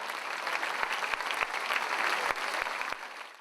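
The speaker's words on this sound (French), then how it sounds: "Mademoiselle Gwendoline, c'est vos applaudissements." An audience claps steadily in a sustained round of applause, a few sharp claps standing out, tapering off at the end.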